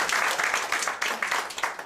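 An audience claps at a talk about Dubai taxi driver jobs, a short burst of brisk, fairly loud rhythmic applause from a small group.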